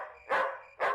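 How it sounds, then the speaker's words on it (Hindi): A dog barking at night, two loud, close barks about half a second apart, each a short, full-throated bark against near silence. "कुत्ता सारी रात भौंकता रहता है।"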